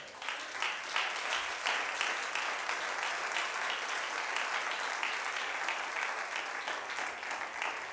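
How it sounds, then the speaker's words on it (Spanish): Sustained applause from a church congregation, steady and full for the whole stretch, with no voices breaking through. "Denle un aplauso a Cristo."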